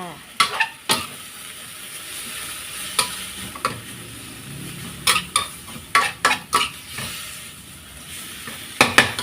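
Pickled radish stir-fried with oyster sauce and green sauce in a pan sizzles steadily while a spatula scrapes and clanks against the metal in quick irregular strikes, close and loud.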